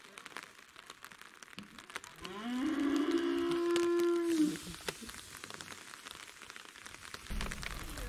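Rain falls steadily as a fine pattering hiss throughout, while a cow lets out a long, loud moo partway through.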